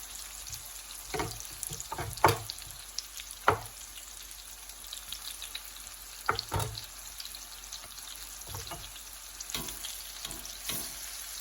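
Plantain slices frying in browning butter in a pan make a quiet, steady sizzle, broken by a few sharper crackles and pops up close, with no talking.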